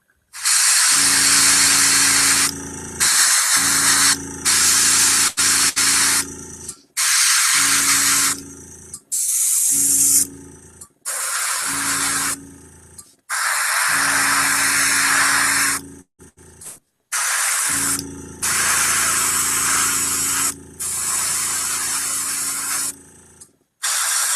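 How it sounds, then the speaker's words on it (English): An airbrush sprays paint in repeated hissing bursts of a few seconds each, broken by short pauses, close and steady, with no talk. "I don't like to airbrush on the show, but if I need to,"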